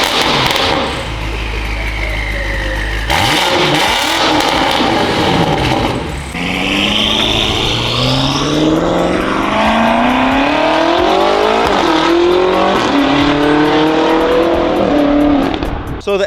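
A tuned Lamborghini Urus engine starts up with a loud roar and settles to idle. It then revs hard several times in rising and falling sweeps, close and powerful, filling the whole stretch.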